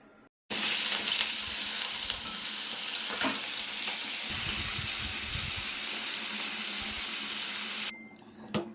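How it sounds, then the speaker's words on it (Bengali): Prawns frying in a pan, a loud, dense, continuous sizzle that begins abruptly, holds steady with occasional stirring knocks, then drops away near the end, close up and without speech. "এবারে চিংড়ি মাছটা ভেজে নেব চিংড়ি মাছটা ভেজে নিচ্ছি"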